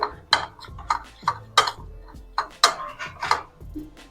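A spoon mixes cumin and garam masala together in a bowl, giving a close series of bright, ringing clinks against the bowl in an uneven rhythm, with faint rustling between strikes.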